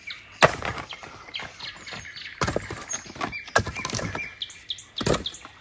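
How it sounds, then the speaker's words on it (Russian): A corncrake gives a harsh, rasping call on a calm, windless evening at a countryside homestead, with nightingales singing from nearby bushes. Several sharp, raspy bursts repeat over a faint bed of birdsong, fairly close and with no talking. "Трещит дергач."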